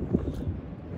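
Gusty wind buffets a microphone outdoors, a low, blustery rumble with a couple of stronger puffs in a brief moment.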